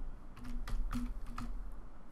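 Close, quiet typing on a computer keyboard while writing Android code, a few irregular light key clicks spread across about two seconds with no talking.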